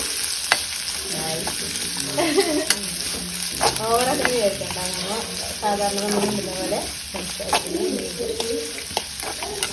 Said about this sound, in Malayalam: ഇനി നമുക്ക് ഇതിന് വേണ്ട ഉള്ളി ഇതിൽ വറുത്തിടാനുള്ള ഉള്ളി ഇടാം.